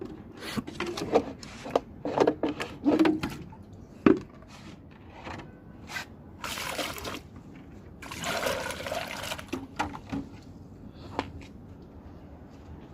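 Water poured from a jug into a plant pot in a rooftop garden, heard as intermittent trickles and soft splashes with a few light knocks, close by and with no talking.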